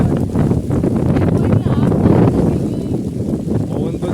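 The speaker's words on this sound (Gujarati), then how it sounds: "પવન ભેગો એવો હોય ને હા ભાઈ જોરદાર છે" Strong wind roars and buffets steadily during rain on a farm, a dense rushing noise with voices faintly under it.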